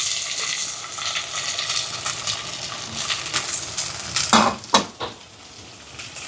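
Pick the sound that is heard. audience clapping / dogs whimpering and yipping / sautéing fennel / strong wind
sautéing fennel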